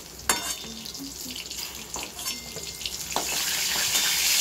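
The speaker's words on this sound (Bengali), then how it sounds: "এইভাবে কিছুটা পটল ভেজে নিচ্ছি" Pointed gourd (potol) fries in oil in a pan, giving a steady crackling hiss with a few sharp pops and faint scraping, slightly building over a few seconds with no talking.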